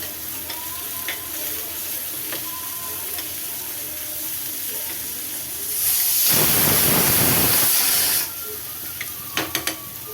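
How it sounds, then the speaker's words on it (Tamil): Chopped onions sauté in a pan for dahi tadka, giving a steady low sizzle that swells into a loud hissing burst mid-clip, then settles back with light stirring clinks. "வெங்காயத்தை நல்லா வதக்கிக்கலாம்"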